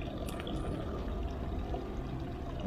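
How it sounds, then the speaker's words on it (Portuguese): Coolant water drains steadily from the radiator reservoir of a Volkswagen car, a continuous, even pouring and trickling flow that stays constant throughout with no talking. "Vamos controlar o nível da água aqui conforme for saindo aqui"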